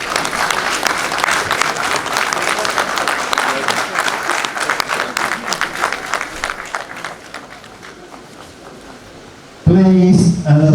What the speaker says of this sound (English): Please, another big round of applause to Jagaban Asiwaju Bola Tinibu.